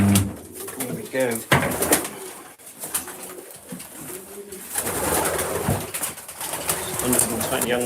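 Racing pigeons coo in a loft while the birds are being basketed, a steady mix of soft cooing and chatter with occasional wing flutters, fairly close and continuous.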